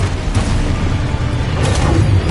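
A Confringo explosion spell in the video game Hogwarts Legacy, heard as a dense, loud, continuous rumble of booming blasts with a heavy low end and small bursts layered throughout.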